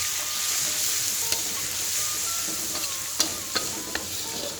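Chopped garlic sizzles steadily in hot oil in a wok, a continuous bright hiss with a few sharp scrapes and clinks of the spatula as it is stir-fried.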